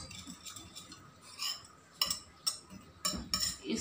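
A spoon stirs egg, chicken, tomato, capsicum, cabbage, onion and spices in a bowl, making quiet, close scraping and clinking against the dish in irregular strokes with a few sharper taps.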